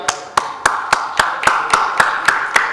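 Audience applause at the unveiling of an advertising report: ten sharp, evenly spaced claps ring out in a steady rhythm over a faint background patter, loud and close with no voices.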